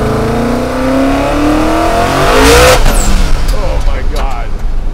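A 2000 hp twin-turbo custom pro-street Chevy truck accelerates hard, its loud engine note climbing steeply in pitch before breaking into a rough, roaring pull, with excited voices under the noise.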